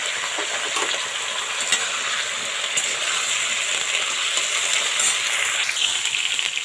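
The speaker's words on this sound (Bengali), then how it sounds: "তো সবজিটা আমি সুন্দর করে ভেজে নিচ্ছি আরও একটু ভাজব" Papaya vegetable frying in melted ghee in a pan, a continuous crackling sizzle with a few clicks and scrapes of stirring spread across it, fairly close and loud.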